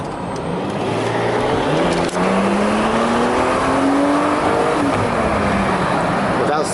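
A Mercedes-Benz W124 station wagon engine revs up steadily, pitch rising and holding high for several seconds, loud and close, with a brief dip before climbing again.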